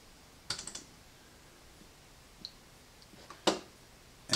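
A handful of sharp computer mouse clicks sound close by while DAW control software for an Allen & Heath QU32 mixer is set up, scattered single and double taps against a quiet background.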